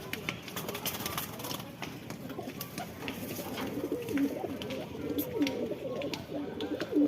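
Pigeons in a loft cooing, repeated soft low coos near and around, steady throughout, with faint voices in the background.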